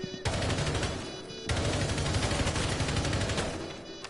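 Sustained automatic machine-gun fire in a video game, dense rapid bursts that start abruptly, break briefly, then resume loud and continuous for several seconds.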